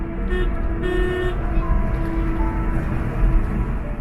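A truck carrying egg trays passes along a tree-lined road near Kharagpur, its engine rumble loud and close, with horn toots early on and steady traffic noise around it.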